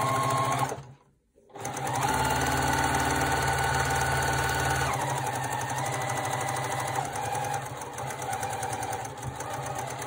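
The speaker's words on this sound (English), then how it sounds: "I'm gonna start at one end and I'm gonna sew all the way around." A sewing machine runs steadily, stitching a seam around wool fabric mittens made from repurposed material. The motor hums and whirs loudly and continuously up close, pausing briefly near the start.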